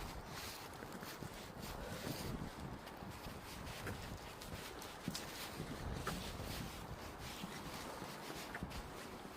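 Wind gusts through a heavy snowstorm outdoors in Denmark, a constant rough buffeting rush at fairly low level, with broadband blustery noise that swells and eases and no speech.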